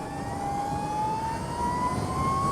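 An Energica Eva Ribelle RS electric motorcycle on the move gives off a steady, rising electric motor whine over a low rush of wind and road noise, with no gear changes.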